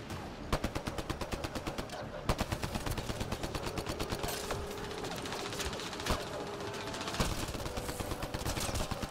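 A heavy gun in Mass Effect: Andromeda fires in rapid, evenly spaced bursts, sharp close cracks repeating over a busy background of game noise.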